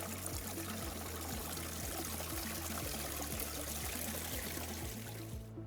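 Water drains from an Electro Freeze CS-700 machine being flushed after shutdown, a steady pouring and trickling stream with a rhythmic low pulsing underneath, close and continuous.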